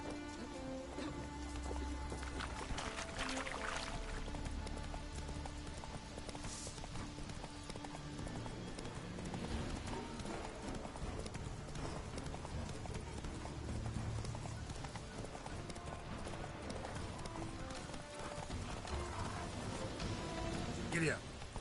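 A horse clip-clops at a steady rhythm through The Witcher 3, rapid hoofbeats running throughout under game music and occasional character voices.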